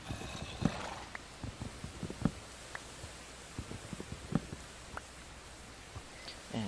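Horse hooves clip-clopping at a slow walk, with scattered soft thuds and a faint whinny-like sound, fairly quiet and close, with rustling in the background.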